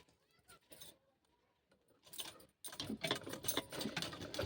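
A sewing machine stitches a woolen kurti. The run starts about halfway through and grows loud and steady, after a quiet stretch with faint handling noise.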